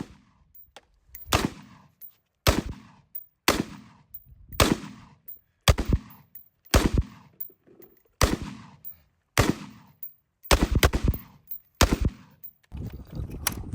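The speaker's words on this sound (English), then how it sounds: "But this gun is really fun to shoot, as you will see in these clips." A 10.5-inch Stag Arms AR pistol firing outdoors in about a dozen sharp, loud bursts and single shots, each cracking close and decaying quickly, spaced roughly a second apart with brief gaps between.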